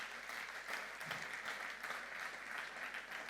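A church congregation applauds steadily throughout, a dense, even wash of clapping from many hands, moderately loud and continuous with no voices standing out.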